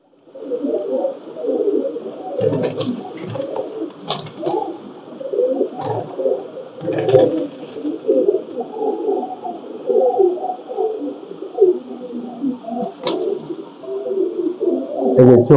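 A male Pakistani teddy pigeon coos in a dense, rolling stream of low throaty calls, close and fairly loud, broken by several sharp knocks and clicks.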